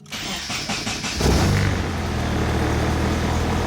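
A drift hatchback's engine cranks briefly and catches, then settles into a steady, loud idle close by, with no talking.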